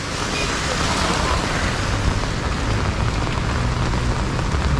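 Heavy rain falling in Mumbai and Thane during a storm, a loud, dense and continuous hiss of rain on surfaces that stays steady from start to finish.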